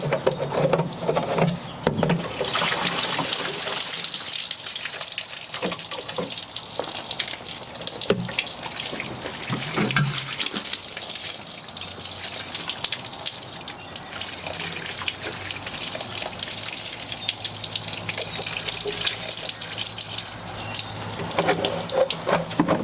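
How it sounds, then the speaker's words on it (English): A hose showers a container planter of succulents, water splashing and pattering steadily on leaves and soil with shifting intensity, a continuous close wash throughout. "container garden of succulents a good bath, a good watering."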